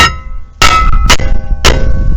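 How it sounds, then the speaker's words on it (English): Three loud, close hammer blows strike a 2016 Subaru Crosstrek brake rotor to knock it free. Each is a sharp metallic clang with a brief ringing tail, spaced irregularly with quieter pauses between. "I think we can get it out with a hammer"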